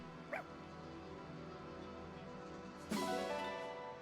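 A dog in Fire Emblem Engage gives a short, soft yip early on, then a louder bark-like burst near the end over a steady game background.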